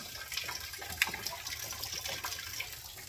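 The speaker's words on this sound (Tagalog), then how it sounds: "Grabing baha itong school ko." Floodwater runs through a school room with a steady, faint rushing and gushing that carries on without a break, like water pouring out of a broken drain.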